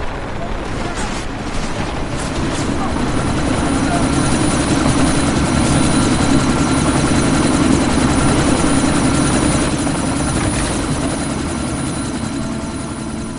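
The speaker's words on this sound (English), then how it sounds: "That chopper's about to take off!" A helicopter in the Deus Ex: Mankind Divided video game roars continuously as it readies to take off, a loud, dense rotor and engine thrum filling the scene, with gunfire and shouted voices mixed in.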